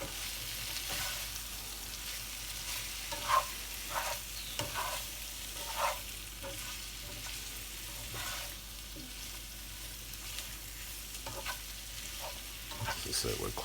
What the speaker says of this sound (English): we'll give all of this a turn. Get that kale starting to mix through